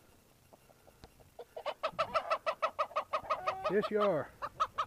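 Chickens in a farmyard coop cluck in a quick, loud rhythmic series, one rising into an excited squawk, while someone speaks briefly near the start.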